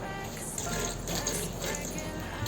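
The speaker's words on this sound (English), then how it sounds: "After that I adding here white vinegar," White vinegar poured over raw chicken being washed at home, a continuous close splashing pour of liquid at a moderate, steady level with no speech.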